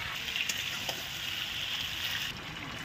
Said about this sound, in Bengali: সো বন্ধুরা এবার আমরা জল অ্যাড করে দেবো।